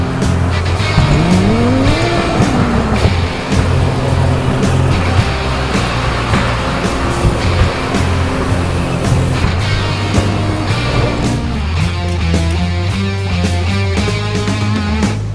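Bumper cars at an amusement park ride drive and collide in a steady loud din of motors and squealing tires, with thuds and shifting tones running throughout and no talk.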